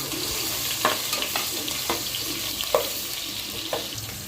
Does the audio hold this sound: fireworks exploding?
no